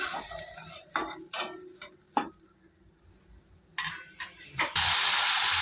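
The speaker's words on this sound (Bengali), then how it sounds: "এবার আমি দিয়ে দেবো সামান্য পরিমাণে জল।" Water goes into a hot oily pan while a silver carp curry cooks, bringing a loud hissing sizzle at the end, preceded by scattered spoon stirs and scrapes against the pan.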